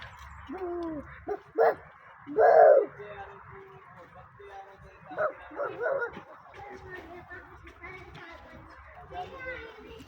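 A dog barks in a few short, loud bursts amid the chatter of children and adults talking nearby, the barks coming irregularly between voices.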